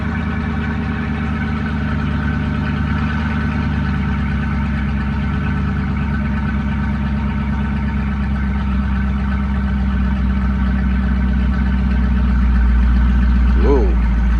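A 5.7L Hemi engine idles nearby with an even, low rumble that holds steady, then a brief rising note near the end, with some talk alongside.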